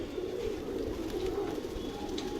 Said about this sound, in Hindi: ये वाला कबूतर मेरा सुल्तानपुरी से भाग के आया भाइयों